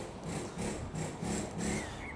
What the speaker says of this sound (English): Forget the air hammer in the background.